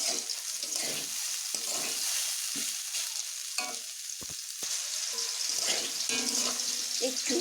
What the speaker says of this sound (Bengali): রসুন দেবার পরে আমি আরও একটু ভালোভাবে ভেজে নেব